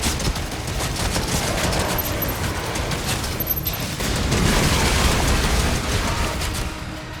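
Rapid flak cannon gunfire from the game DOOM: The Dark Ages, a dense, continuous barrage of close shots with a heavier burst near the end, over a steady layer of game noise.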